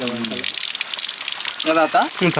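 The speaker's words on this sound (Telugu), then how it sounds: "ఇక్కడ చూడండి నీళ్ళు ఎప్పుడు వస్తూనే ఉంటాయన్నమాట" Steady splashing spring water gushes continuously into a temple pond in Sivapuram, India, with people talking intermittently over the flow.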